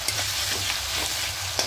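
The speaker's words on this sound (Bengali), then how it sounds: "এবার এখানে আদা রসুনের পেস্টটা দিয়ে দেবো। একটু ভালো করে কষিয়ে নেবো।" Ginger garlic paste and onion are stir-fried in a pan, giving a steady close sizzle under rhythmic scraping strokes of a spatula, with no talking.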